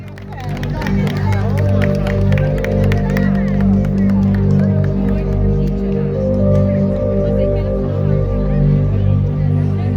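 Festival concert crowd at Kömlő Fest welcoming a singer, steady applause and cheering under loud stage music with a sustained bass-heavy tone throughout.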